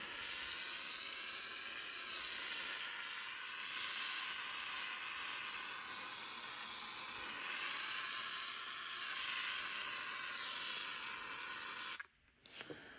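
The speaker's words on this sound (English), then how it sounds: "I am going to spray all that stuff all over it, the WD-40" WD-40 lubricant sprays in a steady hiss continuously for several seconds onto a chainsaw chain, close by, then cuts off abruptly, followed by a couple of faint clicks.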